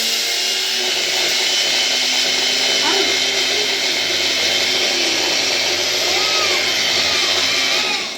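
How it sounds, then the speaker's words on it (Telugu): A loud, steady motorized whir of a kitchen mixer grinder running continuously, filling the whole clip with a dense, grinding drone. "అది బ్లెండింగ్ పెద్ద సౌండ్"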